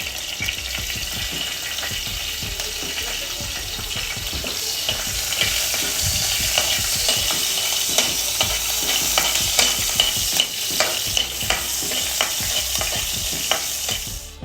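Green chillies fry in hot oil with turmeric and cumin, a steady close sizzle with continuous crackling and spattering that holds throughout, broken by occasional stirring scrapes.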